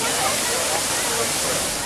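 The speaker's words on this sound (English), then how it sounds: "all the water fountains started to come on in the area" Water fountains in a Barcelona plaza gush and splash in a continuous, loud hiss of spraying water with no break over the short stretch.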